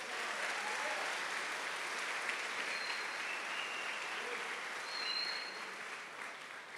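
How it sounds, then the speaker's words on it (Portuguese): A church congregation applauds during a sermon, producing a dense, continuous clapping that holds steady for several seconds before tapering slightly. "Vamos aplaudir o Senhor Jesus."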